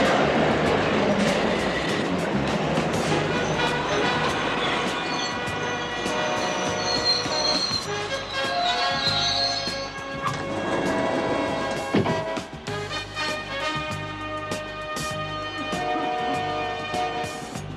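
An underground subway train rumbles loudly and steadily throughout, with metallic rail clatter, high wheel squeal and shifting tones as it travels through the tunnel, and no voices.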